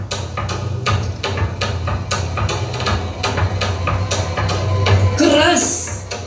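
A hammer strikes nails in steady, repeated sharp blows during a Good Friday church service, the knocks evenly spaced over a continuous low hum, with a brief brighter clatter near the end.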